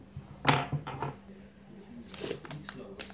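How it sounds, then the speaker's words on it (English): Scissors cut open tablet packaging in a few sharp snips and crinkly plastic rustles, close and fairly quiet, with some handling noise between the cuts. "So I'm gonna open with my scissors right here."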